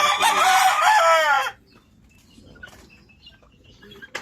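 Backyard chickens, with a rooster crowing loudly once at close range before the yard drops to near quiet, leaving only faint scattered clucks and peeps.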